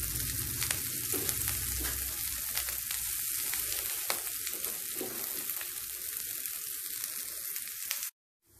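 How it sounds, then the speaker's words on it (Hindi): Mutton shami kebabs fry in a shallow layer of oil in a home kitchen, giving a steady, close sizzle with soft crackles and occasional spatters that runs unbroken for about eight seconds before cutting off abruptly. "बस थोड़ा सा तेल इधर थोड़ा सा उधर डालकर हम फ्राई कर लेंगे पूरे शामियों को"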